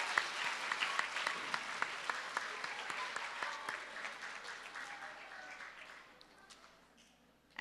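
Audience clapping for a school color guard at a middle school assembly, a steady patter of many hands that gradually fades and thins out toward the end, moderately distant.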